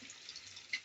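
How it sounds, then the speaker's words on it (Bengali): Water pours from a vessel into a pan of broiler chicken curry, a faint, steady trickling splash lasting under a second with a slightly louder splash near the end. "পরিমাণ মতো পানি দিচ্ছি।"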